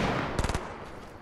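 Gunfire in a multiplayer shooter game: a short, quick burst of about four automatic shots over a steady background of game noise, with no speech.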